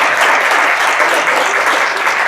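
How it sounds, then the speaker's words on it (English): Audience at a university debate on profit-based healthcare clapping loudly and continuously, a dense, close wash of applause with no voices. "let's give them a round of applause for everything"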